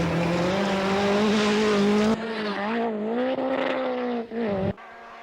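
A Lancia Rally 037 rally car races flat out, its engine note loud and steady, rising and falling through revs, with a couple of abrupt cuts and a brief dip near the end, and no talking.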